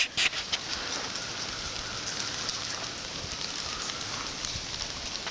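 Steady rain falls during an ice storm in Canoochee, Georgia, as a continuous soft hiss with a few sharper drips or taps near the start, moderately quiet and without voices.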